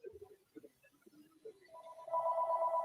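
A telephone rings with a steady electronic tone rising in the second half, preceded by a few faint beeps, fairly clear and close.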